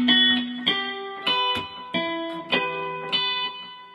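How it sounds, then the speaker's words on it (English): An electric guitar plays the closing rhythm part of measure 50 from a song: six clean, ringing chord strums at an even pace, each struck sharply and left to decay, heard alone. "So measure 50, the last of the rhythm part, sounds like this."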